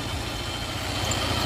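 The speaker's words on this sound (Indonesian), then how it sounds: "Suara mesinnya juga masih halus." A 1995 Suzuki Katana GX with a 1000 cc engine idles smoothly nearby, giving a steady, even low rumble with no talking.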